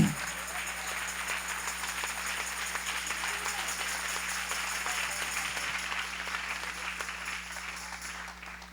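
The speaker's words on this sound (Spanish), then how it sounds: "Denle ese aplauso al Rey." A church congregation at a Spanish-language worship service applauds steadily and evenly from start to finish, a broad, sustained wash of clapping with no talk over it.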